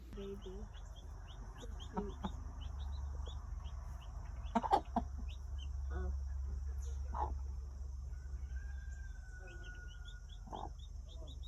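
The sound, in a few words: broody hen clucking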